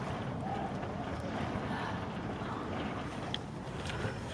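Wind buffets a microphone aboard a sailboat in rough open-water conditions, a continuous low rumbling roar with gusty fluctuations and faint higher rustles throughout.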